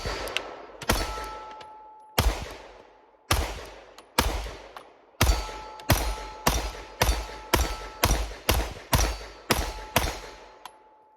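Gunfire from a Shadow Systems MR920L pistol on a shooting range: about sixteen loud, sharp shots, single ones at first, then a steady, fairly quick string of evenly spaced shots, each with a short ringing decay.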